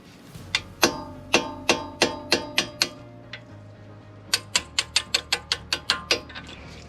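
Pin punch struck with a hammer to drive out a rusted pin during a front wheel bearing replacement on an Alfa Romeo 159, Brera or Spider: about eighteen sharp metallic hammer blows in two quick rhythmic runs, close and clear with no talk.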